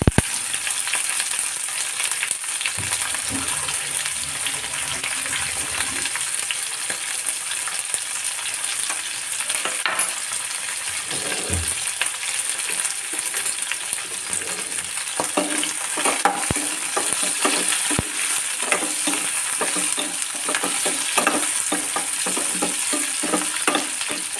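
Shallots and green chilies fry in hot oil for an anchovy dried-fish curry, giving a continuous close crackling sizzle with occasional stirring scrapes and soft clinks, and no voices.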